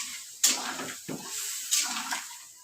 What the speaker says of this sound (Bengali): শুধু ঝোলের জন্য একটু পানি দিলাম আমি।